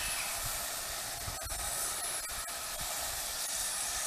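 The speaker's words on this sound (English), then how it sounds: "She's dumping fuel." Steady hissing, spraying rush from the carburettor of a Lada 2102 dumping fuel while the engine runs, loud and continuous with a few brief ticks, no talking.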